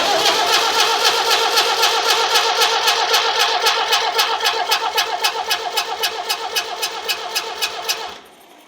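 An International Harvester B276 tractor engine with no exhaust silencer runs loud and harsh, its rapid, rough pulsing firing steadily for about eight seconds before cutting out abruptly.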